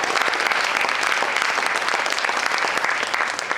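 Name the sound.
audience applause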